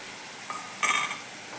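A spoon stirs niger seed powder and spices into a vegetable palya in a pan, giving soft scrapes and a brief bright metallic clink against the pan, faint and close.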